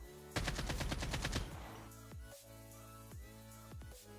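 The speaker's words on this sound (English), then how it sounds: "we'll see the recoil pattern of my AK-47 without the stabilizer mod" An AK-47 without a stabilizer fires in Call of Duty Mobile, a rapid burst of about a dozen loud, evenly spaced shots lasting about a second, followed by a ringing tail and a few distant echoing shots.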